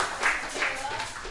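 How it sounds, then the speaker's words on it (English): A live audience at a poetry and comedy show at the Five Spot applauds and cheers for a comedian: a dense, steady wash of clapping and crowd noise with a few louder swells. "Let me get a round of applause for the comedian Amir."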